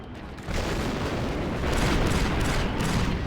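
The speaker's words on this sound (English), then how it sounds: "The charge is set and ready to detonate." Explosive charge detonating in Star Wars Republic Commando sets off a loud, sustained rumbling blast that swells after a short quiet moment and roars on to the end, with no voices.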